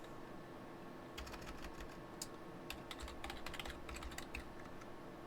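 Keystrokes on a computer keyboard click in irregular bursts at close range, steady typing against a low constant background hum.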